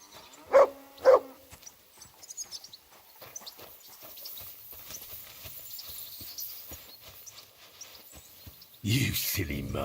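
A dog in the medieval video game Kingdom Come: Deliverance 2 gives two loud barks near the start, followed by soft hoof clops and ambient game sound, then a burst of louder noise at the end.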